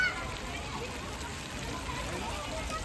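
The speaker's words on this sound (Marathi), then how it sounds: "जे बदक आहेत त्यांच्या तोंडातून असं पाणी" Water spouts steadily from the mouths of duck-shaped fountain figures in a children's garden, a continuous close splashing wash that holds an even level throughout.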